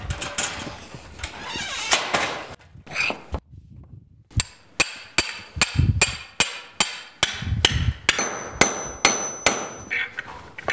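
Small plugs are hammered in while fitting a PVC window, a series of sharp, ringing hammer strikes at an irregular then steady beat, loud and close, with a few brief pauses between them.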